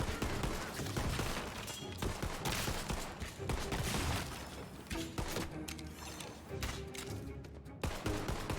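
Slower-firing but hard-hitting gun in Tiny Tina's Wonderlands, loud repeated shots and impacts blending into a dense, busy barrage of game combat throughout.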